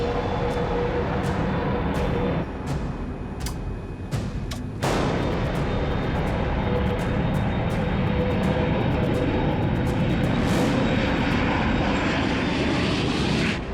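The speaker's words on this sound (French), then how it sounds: "Alors ça, c'est un agréable décollage." An airplane takes off in a film scene, a loud, steady jet-engine roar that swells and stays dense throughout, with a brief rumbling dip and some sharp knocks partway through.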